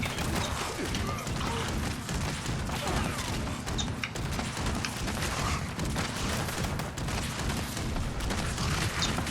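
Rapid hip-fire gunshots in the video game Fallout 76, played as a feral ghoul: a dense, continuous stream of sharp shots and mechanical clatter without pause.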